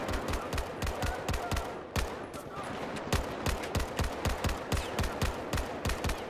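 Rapid gunfire from a Battlefield 4 firefight, loud repeated shots in close succession with a brief pause near two seconds, no talk.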